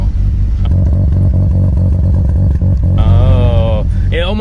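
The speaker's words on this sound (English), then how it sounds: "I always liked the sound of a rotary. And that is the low B idle." A Mazda RX-7 FD3S with a ported rotary engine and an EFR8374 twin-scroll turbo idles close up with a loud, lumpy, choppy rumble, and a voice briefly cuts in near the end.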